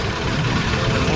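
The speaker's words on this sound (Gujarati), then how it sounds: "રમેશ કાકા ટ્રેક્ટર આઘેરા છે" A tractor engine runs steadily close by at a farm where soil is being hauled, giving a loud, continuous low rumble with no breaks.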